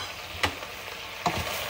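Onion is stirred into a thick meat sauce in a pan, two quick scraping strokes over a quiet continuous simmering hiss.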